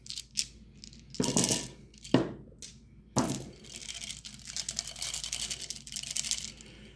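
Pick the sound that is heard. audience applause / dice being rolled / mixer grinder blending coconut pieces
dice being rolled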